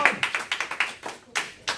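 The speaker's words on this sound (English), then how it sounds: "Give her a round of applause." A small team meeting audience gives a sparse round of applause, a handful of separate, uneven claps close by, with short gaps between bursts.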